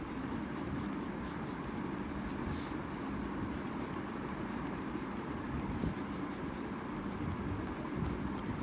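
A pen draws thin fibers on paper in a steady, continuous scratching that stays fairly quiet and even throughout, with no talking.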